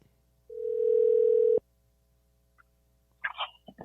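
A telephone sounds a single steady tone for about a second while a call is being placed, then cuts off, followed by brief scattered handling noises and muffled sounds.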